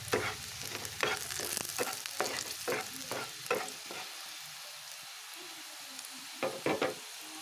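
Fish masala fries in a pan with a soft sizzle under repeated scraping strokes of a spoon stirring, a series of close, distinct knocks and scrapes that thin out partway through before a few final stirs.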